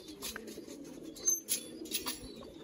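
Soft, low cooing from a small group of young pigeons in a loft, faint and intermittent, with a few brief higher chirps and rustles scattered across a couple of seconds.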